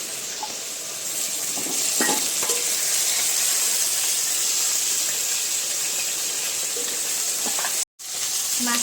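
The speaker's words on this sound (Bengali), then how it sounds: "এদিকে ট্যাংরা মাছটাও ভেজে নিচ্ছি।" Tengra fish frying in hot oil in a wok, a loud dense sizzle with steady hiss and a few sharp crackles and utensil clinks, continuing almost unbroken before a brief cutoff near the end.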